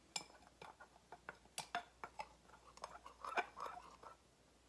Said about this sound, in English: now you're just going to mix this together